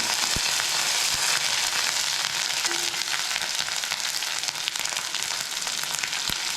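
Ginger-garlic paste fries in a hot pan with a steady, dense sizzle and crackle, close and continuous, with a few faint clinks of a utensil and no talking.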